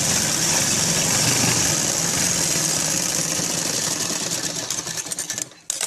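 A sewing machine stitches sharara fabric in a steady, loud, continuous whirr with rapid needle chatter, running close by for several seconds before stopping abruptly near the end.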